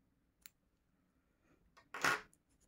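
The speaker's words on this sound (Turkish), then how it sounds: "5 tane zinciri şöyle ortadan ilmek kaydırarak kesiyorum" Scissors snip through crochet chain stitches in one crisp, close cut after a few faint clicks and handling sounds in an otherwise quiet room.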